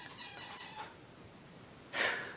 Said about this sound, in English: my dog is squeaking a toy